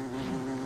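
Bees in the video game Don't Starve give off a steady, close insect buzz that holds at an even pitch and loudness for a brief moment.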